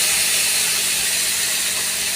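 Loud, dense sizzling hiss of a spice paste hitting hot oil already tempered with whole cumin, bay leaf and dried chilli, close and continuous without pause.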